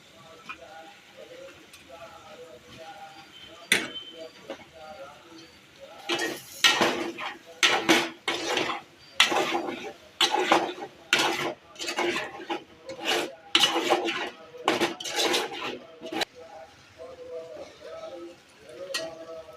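A utensil scrapes and stirs potato curry in a metal pan in repeated rasping strokes, close and fairly loud, with quieter sizzling in between.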